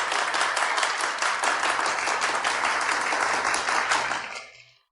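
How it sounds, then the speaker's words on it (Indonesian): Audience applause at a company gathering welcoming a new member who won a tender, dense steady clapping for about four seconds before fading out quickly. "Mari kita beri tepuk tangan."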